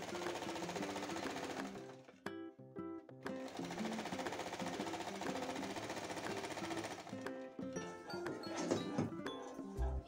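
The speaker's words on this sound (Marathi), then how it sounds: "इथे मी टीप टाकून घेत आहे." A sewing machine stitches the hem of a blouse cross strip in long continuous bursts of rapid mechanical chatter, with a brief pause and a faint clink near the end, no talking.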